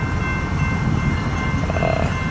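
A BNSF local freight train rolls out of Hobson Yard with a caboose, making a steady low rumble with a brief tonal horn note near the end. It sounds moderately close and there is no speech.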